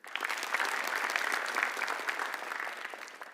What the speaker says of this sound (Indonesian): tepuk tangan boleh?